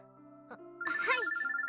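A phone ringing in the video game Robotics;Notes, a bright electronic ringtone pulsing rapidly and close, starting suddenly after a quiet stretch of soft background tones.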